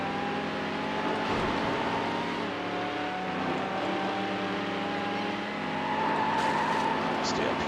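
A racing car engine drones steadily in Need for Speed Hot Pursuit 2 during a championship event, with a BMW nearby. The pitch holds and then climbs slightly as the car carries speed, continuous and unbroken.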